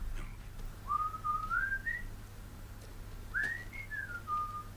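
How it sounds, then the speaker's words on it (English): A person whistles a meandering tune, likely Dixie, in two drawn-out phrases, clear and fairly close over a low steady hum in a quiet room in a tense dramatic scene. "He was whistling Dixie."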